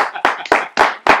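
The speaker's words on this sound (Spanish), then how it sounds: "Este aplauso es para ti, Enrique." A studio audience claps for a Peruvian circus performer on a television show. Several loud, close hand claps come at an even beat of roughly four per second, with no talking.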